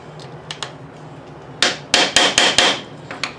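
A hammer strikes a drift to flatten a rivet: a few light taps, then a run of six sharp, loud blows in quick succession, followed by softer taps.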